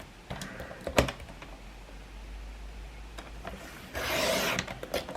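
Trimming a protruding sticky edge on a Stalogy notebook page: a few sharp clicks and taps, then a short rasping cut near the end, close and fairly quiet with no talking.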